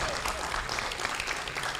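An audience at a free medical camp applauding to welcome a doctor to the stage, a dense, even round of clapping from a room full of people, heard briefly and fairly close.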